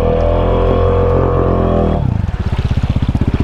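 A tuned exhaust on a Honda four-wheeler ATV revs to a high, sustained whine, then drops to a loud, choppy, pulsing idle close by, with no talk.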